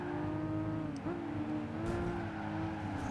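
Racing in Gran Turismo 5, a Porsche GT3-like engine revs high, with a quick shift blip and a brief tyre squeal, steady and close throughout.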